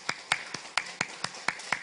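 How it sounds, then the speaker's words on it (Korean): A small church congregation gives welcoming applause during a Sunday worship service, sparse, evenly spaced claps, about eight in under two seconds, fairly faint and with no talk. "자, 우리 환영의 박수"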